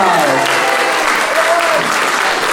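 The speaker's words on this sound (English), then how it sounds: "Yeah, round of applause." An audience at an elementary school arts awards ceremony applauds, loud steady clapping from a crowd that continues without a break while a voice speaks faintly over it.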